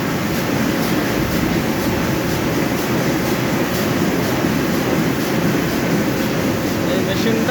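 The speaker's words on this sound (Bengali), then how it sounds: "এটা একদম পুরো মেশিনটাও ওই মাথা পর্যন্ত 4 কালার একটা মেশিন। এখন এটা ঘন্টায় 6 থেকে 7 হাজার স্পিডে চলতেছে।" A four-colour offset printing press runs steadily at 6,000 to 7,000 sheets per hour, giving a dense, continuous mechanical roar with faint rhythmic clatter, loud and unbroken throughout.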